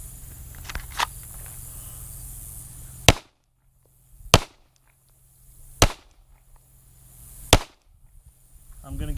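A Glock Gen 5 pistol fires four sharp, loud shots during a draw-and-fire drill, spaced about a second and a half apart, with quieter handling noise in between.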